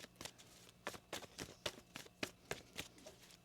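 Quiet, rapid riffling of tarot cards, a run of crisp flicks and taps at an irregular rhythm, close by with no talking.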